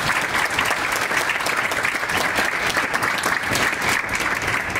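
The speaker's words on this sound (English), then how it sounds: "let's give them a round of applause." An audience at a board meeting applauds volunteers with sustained, dense clapping that holds steady for about five seconds, fairly close and without voices over it.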